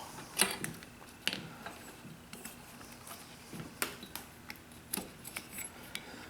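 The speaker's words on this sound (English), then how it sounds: "let me go ahead and pull this belt off here" Drive belt being pulled off a pulley on a Nirvana Instinct paramotor, heard as scattered light clicks, creaks and small rattles of metal and rubber, quiet and close with no talking.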